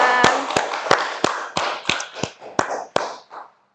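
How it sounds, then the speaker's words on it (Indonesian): A small group in a studio setting claps in sparse, sharp, close hand claps, about ten spaced beats that slow and fade, with no talk over them. "Boleh minta tepuk tangan ya teman-teman."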